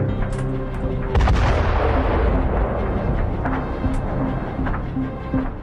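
Heavy artillery shelling and rocket fire at the Zaporizhzhia nuclear power plant in Ukraine: a dense, loud rumble of booms and blasts that swells sharply just after one second and carries on through, with repeated impacts and a low, continuous roar.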